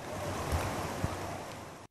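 Rushing floodwater sweeps through a flooded park in San Antonio, a steady, loud broadband roar with wind buffeting the microphone and a couple of brief thumps, no voices.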